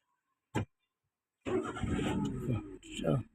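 A car engine cranks and catches during a driving lesson, a brief thump followed by a steady running engine, with an instructor's voice talking over it.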